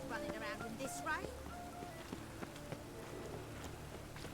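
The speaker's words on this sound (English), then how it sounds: "Running around in this rain." Rain falling in The Witcher 3 video game, a soft steady patter under game sounds and footsteps, with people talking over it.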